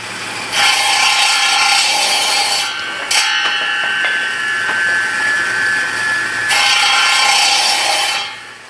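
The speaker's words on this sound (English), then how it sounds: "With the excess wood removed, the bat is now 850 grams." Wood being shaved and rasped off a baseball bat, a steady loud rasping grind that runs in long sustained passes with a short break near the middle and fades at the end.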